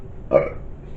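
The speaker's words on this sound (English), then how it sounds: "I've definitely got the burps." A single short, loud burp after drinking a hoppy Colorado beer, close to the mic and alone over faint background noise.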